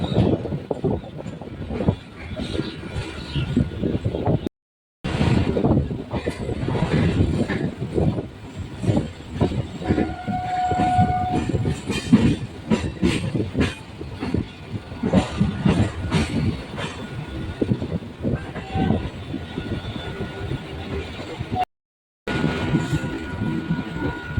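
A train pulls into Sealdah railway station with a loud, continuous rumble of wheels, rhythmic clatter over rail joints and occasional squealing, heard close and alone for the whole stretch.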